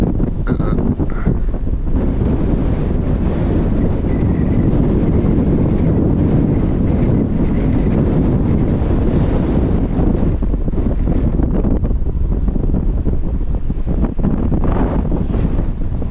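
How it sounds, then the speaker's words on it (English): Heavy wind on the stormy, wet Devon coast blasts continuously against the microphone, a loud, rough rumble with surging gusts, no voices. "It's a bit wet and windy for that today."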